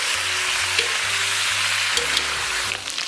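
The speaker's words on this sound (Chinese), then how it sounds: "咱小火微煸炒" Pork belly slowly stir-fried in a little warm oil over low heat, being prepared for a braise with pickled cabbage; a steady, close sizzle runs throughout with a soft melody playing underneath.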